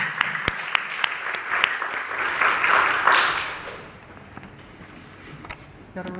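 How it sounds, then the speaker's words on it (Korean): Audience applause welcoming a missions leader at a church service, a dense burst of clapping that builds then fades after a few seconds, with scattered individual claps and faint voices at the end. "박수로 환영해 주시기 바랍니다."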